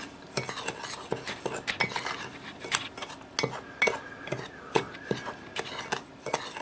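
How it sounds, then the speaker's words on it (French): A spoon stirs sugar and cornstarch together in a small bowl, with repeated close clinks and scrapes against the bowl in an irregular rhythm, no talking. "Dans un petit récipient, je vais y mettre mon sucre que je vais mélanger à la maïzena."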